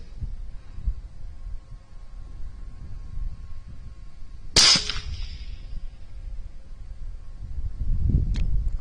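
A single sharp crack from a .22 LR rifle firing light 32-grain CCI Stinger rounds at a rabbit during a night hunt, close and loud with a brief ringing tail, set against quiet outdoor rustle.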